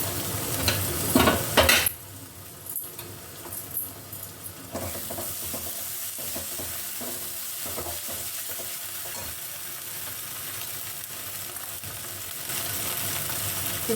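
Onions with ginger paste fry in a pan: a clattering stir at the start, then a continuous moderate sizzle with scattered soft scrapes of the spoon, no one speaking.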